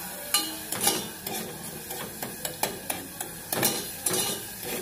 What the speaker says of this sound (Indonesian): Nah ini kita aduk-aduk terus sampai gosong,